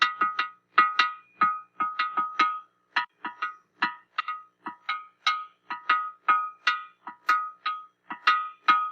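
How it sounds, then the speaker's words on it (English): A rock struck on a ringing stone at Carnmenin, the bluestone source, gives a rhythmic string of sharp, bell-like clinks, about four per second with uneven accents, fairly close and alone without talk. "All from a rock on rock."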